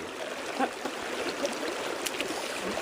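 River water flowing steadily outdoors, a soft continuous trickle and gurgle at moderate distance, fairly faint and unbroken, with no talking.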